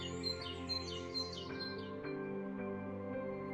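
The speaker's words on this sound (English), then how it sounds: "It's nice when things are peaceful and we can hear the birds sing." Birds chirp and tweet in a quiet, peaceful setting, a few short bright calls in quick bursts early on, soft and moderately distant over a faint, tonal background.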